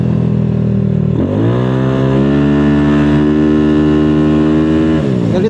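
A Yamaha Aerox 232cc scooter engine while riding, a loud steady drone with a strong harmonic hum that rises in pitch as throttle opens after about a second, holds at part throttle, then drops near the end.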